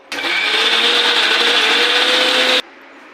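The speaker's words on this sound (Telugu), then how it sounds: "ఇలా మెత్తగా మిక్సీ పట్టుకోవాలి" A kitchen mixer grinder whirs loudly and steadily for about two and a half seconds, blending cooked paneer butter masala ingredients into a smooth paste, then cuts off abruptly.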